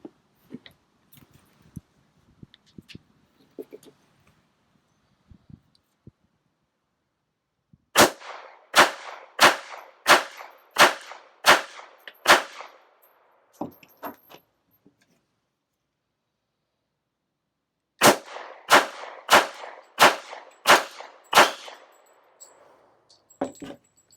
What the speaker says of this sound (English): I'm going to shoot the P380 and then I'm going to shoot a PM40